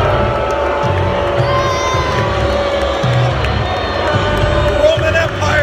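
A packed WrestleMania 33 stadium crowd of about 75,000 booing Roman Reigns, a dense, loud, sustained roar of massed voices that holds steady throughout with little letup.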